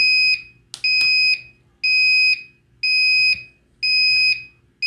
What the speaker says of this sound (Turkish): Gördüğünüz gibi bizim buzzer çalışmaya başladı.